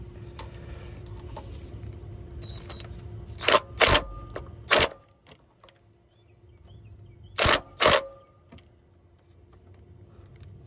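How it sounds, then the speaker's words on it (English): An impact gun tightens water pump bolts on a Ford F150, giving short loud rattling bursts: a cluster of three quick hits, then a pause, then two more close together, over faint background noise. "now they're threaded in by hand, we're gonna lock them down with the impact gun"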